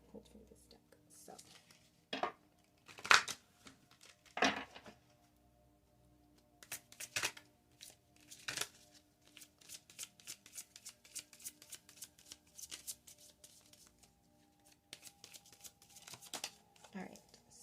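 A deck of tarot cards shuffled by hand close up, with crisp riffling bursts and soft scattered flicks and taps, mixed with quiet whispery handling noise.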